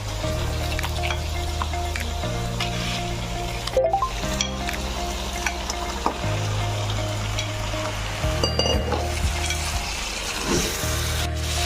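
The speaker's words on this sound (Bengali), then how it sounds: "এবারে আমি মটনটা দিয়ে দেব এটা আমার দেড় কেজি মটন আছে আমি আর মাটনগুলো তুলে দিলাম" One and a half kilos of mutton fried and stirred in spiced oil, a continuous close sizzle with scraping and squishy stirring throughout, no voices.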